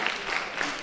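Brief burst of audience clapping in a career guidance session hall, dense and moderately loud across under a second.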